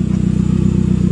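A 1995 SAAB 900SE fitted with a 3-inch exhaust idles close by, a steady, loud, low burble with an even rapid pulse throughout the short stretch, no voices.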